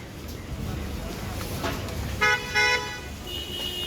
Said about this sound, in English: Yeah, people honking, people impatient, just like India.